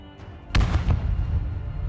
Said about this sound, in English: A massive explosion rocked the Humvee.